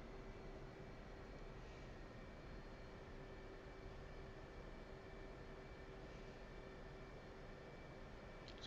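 A jet in the DCS flight simulator taxis fast at Tonopah, heard as a steady, even engine roar and whine that holds at the same level throughout with no voices.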